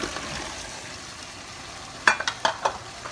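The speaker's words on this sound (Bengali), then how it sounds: "একটু ভালো করে নাড়াচাড়া দিয়ে এটাকে মিক্স করে নিব মরিচের সাথে" Pumpkin and prawns being stirred in a frying pan, a few short scraping clinks of the spatula over a soft steady sizzle.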